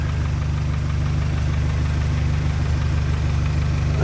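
A Volkswagen Golf Mk2 engine, running on decades-old petrol, idles steadily and close by. It makes a low, even rumble with a regular pulsing beat and no pause across the few seconds.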